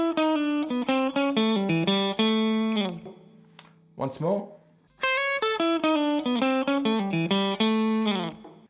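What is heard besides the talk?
electric guitar playing country lick with pull-off and slide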